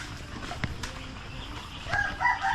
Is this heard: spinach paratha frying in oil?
no